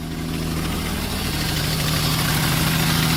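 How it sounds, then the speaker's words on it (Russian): A car engine runs at a steady idle right after starting, a loud, close, even hum with a constant low rumble throughout and no voices. "Так, вот двигатель запустился."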